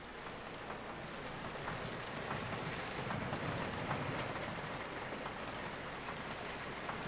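A GCI wooden roller coaster train in Planet Coaster rumbles along the track with a steady, continuous clatter and faint rhythmic clicks, loud and unbroken throughout with no voices.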